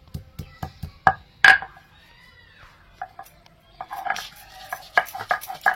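Onion and garlic are ground by hand on a grinding stone: a series of hard knocks and thuds, then rough scraping strokes of stone on stone, close and fairly loud, with quiet gaps between bursts.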